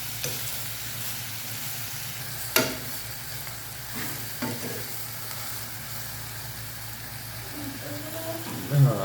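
Onions fry in a pan for a bamboo-leaf dried fish bhuna, giving a steady sizzle with occasional scraping stirs and a couple of sharper knocks. The sound is moderate and close, with no talk.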